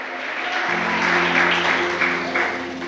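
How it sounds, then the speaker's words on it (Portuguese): A church congregation claps steadily and loudly for a few seconds, dense applause with a sustained musical tone humming underneath. "Pode aplaudir com fé, na certeza da vitória"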